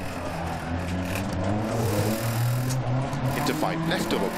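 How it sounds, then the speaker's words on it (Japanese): A rough, droning damaged rally car engine in the video game DiRT Rally 2.0 hums steadily with uneven pitch under a voice, sounding strained and off. "エンジン音がおかしい。 変な音している。"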